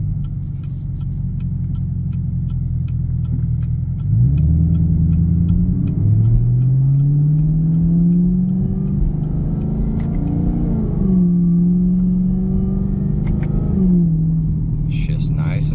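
A 2019 Chevrolet Camaro ZL1 with a Corsa intake is driven in manual mode, its loud, close engine rising in pitch through each gear, then dropping with every upshift in a smooth repeated climb.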